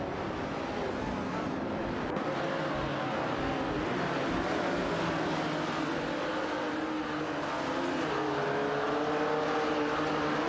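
Video game race cars, a Shelby Cobra 427 and a Ferrari 250LM, with steady engine drone and shifting revving tones, moderately distant and continuous throughout.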